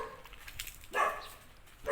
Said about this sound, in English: The dogs, many dogs in Cambodia.